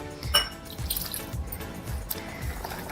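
Half a bowl of water is poured into a bowl of semolina and yogurt batter, making close, soft splashing and dripping sounds with a few wet squishes, fairly quiet throughout.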